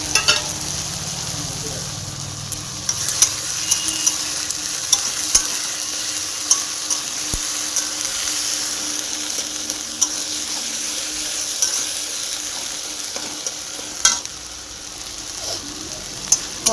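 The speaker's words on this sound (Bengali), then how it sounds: "মশলাটাকে ভালো করে কষে নেব।" Ginger paste, garlic paste and chopped tomato masala frying in a pan with a continuous sizzle, broken by occasional sharp utensil scrapes and clinks as it is stirred, close and steady, no talking.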